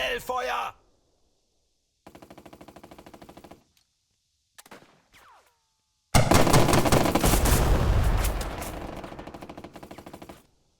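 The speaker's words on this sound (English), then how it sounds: "These are just going to be putting down fire onto these infantry." Machine guns fire on infantry in the turn-based tactics game Burden: two short rattling bursts, then a long, loud, sustained volley that slowly fades.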